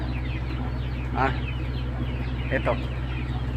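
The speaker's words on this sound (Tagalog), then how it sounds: "Ayan, mga manok, dami oh." Chickens cluck and call in a busy yard, a couple of short louder squawks standing out over constant low farm hum, with a voice speaking briefly.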